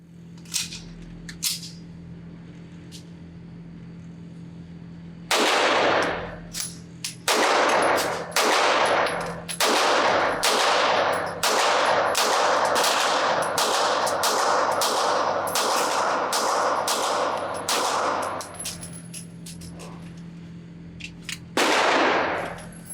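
A Phoenix Trinity Desert Pro Elite 2011-style pistol fired at a range: a long, fast string of loud, sharp shots, nearly continuous for much of a magazine, then a final few cracks after a brief pause.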